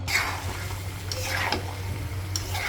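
Fried cauliflower and potato being stirred into cooked lentils in a pot, a soft, steady scraping and wet churning with a low hum underneath, close and fairly quiet, with no talking.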